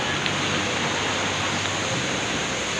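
Strong, fast water rushing down from a mountain, a constant broadband roar filling the whole stretch without pause, close and loud, with no clear voices over it.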